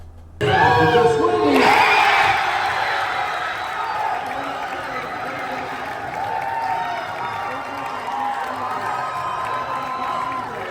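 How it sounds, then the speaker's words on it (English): More than a hundred students, faculty and staff cheer at a school watch party for a championship match. A sudden loud roar of cheering, whoops and applause bursts in, then settles into a sustained crowd din with some voices. "more than 100 students, faculty, and staff cheered the Cougars on from our watch party"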